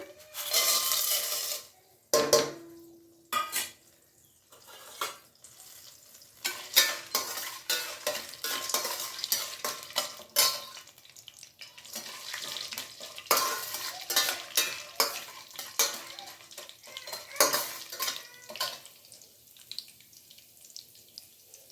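Roasted peanuts and dals stirred in hot oil in a pan, with scraping and clattering strokes over a light sizzle, loud and close, with brief pauses between stirs.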